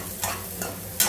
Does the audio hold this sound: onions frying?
yes